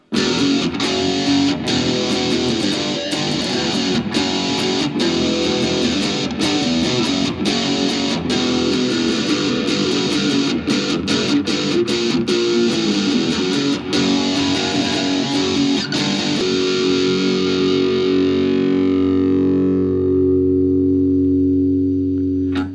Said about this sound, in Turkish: Şimdi biraz da delay verdim. Bir de o tona bakalım.